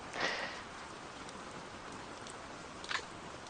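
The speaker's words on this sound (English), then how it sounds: "Oh, it's actually raining." Soft, steady rain in a video game hisses faintly, with a couple of brief brighter splashes standing out.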